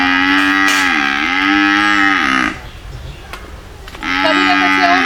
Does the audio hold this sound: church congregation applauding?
no